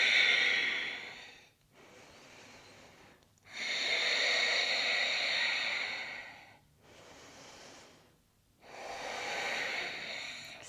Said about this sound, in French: 3 respirations.